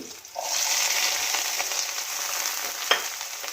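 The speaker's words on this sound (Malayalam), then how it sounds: "പച്ചമുളകാണ് അതേപടി തന്നെ ഇട്ട് കേട്ടോ" Whole green chillies hit hot oil in a pan with a sudden steady sizzle that holds throughout, close and fairly loud, with one brief sharper crackle near the end.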